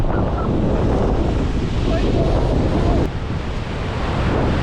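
Loud, continuous rushing water of Niagara Falls in winter roars alongside buffeting wind gusts hitting the microphone, with a brief dip in the middle.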